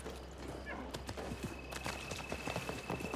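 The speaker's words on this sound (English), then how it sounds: "Get on the horse." Horse hooves clip-clop in Assassin's Creed Mirage, a steady run of light, close hoofbeats with a faint high tone held underneath and no talk over them.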